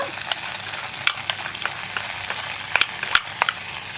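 Fried onion tempering poured into a tomato curry, sizzling with sharp crackles and pops over a steady hiss, close and loud, with no talking.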